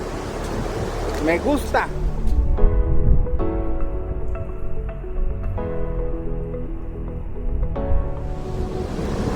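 Cascada El Salto near El Naranjo in the Huasteca Potosina: a broad, steady roar of falling water fills the scene, with music playing over it and a brief spoken remark at the start.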